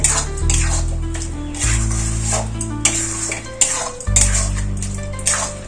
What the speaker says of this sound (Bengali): একটু নাড়াচাড়া করে নেব কিন্তু কম আঁচই থাকবে